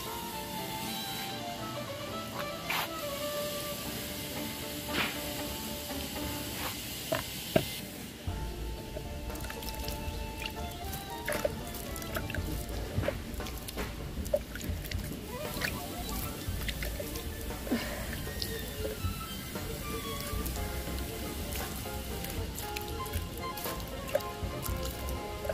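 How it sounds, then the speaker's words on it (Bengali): Water poured from a container into a potted plant, soaking the soil, with a steady splashing trickle and scattered drips and squishes, fairly close and continuous for the whole stretch, no talking. "এখন আমি একদম মাটি পুরো ভিজার জন্য টব ভরে পানি দিচ্ছি।"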